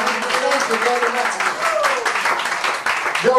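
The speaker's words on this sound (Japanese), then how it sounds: "Give a big round of applause, ladies and gentlemen." Live audience at a bar applauding a singer after her set, a dense burst of clapping mixed with cheering and an announcer's voice over it, close and loud.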